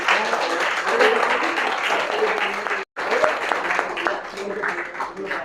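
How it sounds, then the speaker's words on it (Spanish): An audience at a talk gives a renewed round of applause, dense and steady clapping that runs throughout apart from a brief cut of silence near the middle, with faint voices mixed in. "Vamos a repetir ese aplauso."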